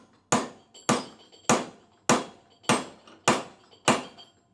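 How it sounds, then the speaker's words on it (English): A hammer strikes a screw driven into the opening of a broken golf club shaft, giving seven sharp, evenly spaced metallic blows with short ringing decays, close and loud with no talk. "now we're going to take the bolt, or the screw, excuse me, and just hammer it"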